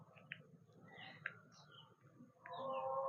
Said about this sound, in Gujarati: પક્ષીઓનો પણ કલરવનો અવાજ સંભળાઈ રહ્યો છે.